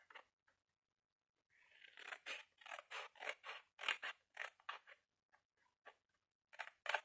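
Scissors snip through a paper tab about 6 cm wide while a folded box with a slanted lid is being made, a rapid run of close, crisp cuts in bursts with short pauses and no talking.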